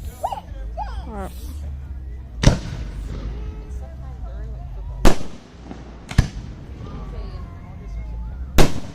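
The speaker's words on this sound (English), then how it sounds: "These are the type of fireworks we need." A fireworks show in Kansas goes off outdoors: four sharp, loud booms land a few seconds apart over a steady low rumble, with people chattering and calling out nearby between the blasts.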